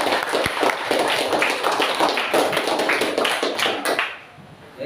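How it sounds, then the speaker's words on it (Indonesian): Classroom applause for students' correct answer, a dense wash of many hands clapping steadily for about four seconds before fading out. "kita kasih aplaus untuk jawaban dari teman-teman"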